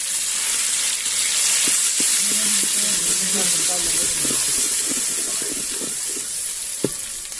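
Hot oil sizzles and spits steadily and close up as leftover saag is tempered, with occasional stirring clinks and a person talking softly over the frying.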